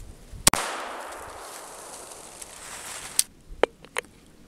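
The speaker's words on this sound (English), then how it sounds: "gonna shoot the pistol" A single pistol shot rings out at an outdoor shooting range, a sharp loud crack followed by a long fading echo, then a few fainter distant clicks and pops.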